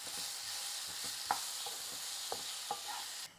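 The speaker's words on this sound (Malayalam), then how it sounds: "നമുക്കൊന്ന് നന്നായിട്ട് ഇളക്കി പഴം ഒന്ന് വഴറ്റിയെടുക്കാം." Chopped ripe banana is stirred and sautéed in hot ghee, giving a soft, steady sizzle with a few light spatula taps against the pan, quiet and close.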